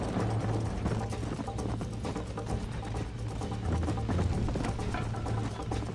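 Horse hooves clip-clopping at a fast gallop in the Western video game Red Dead Redemption, a loud, continuous stream of rapid hoofbeats mixed with steady engine-like game ambience and a faint background drone.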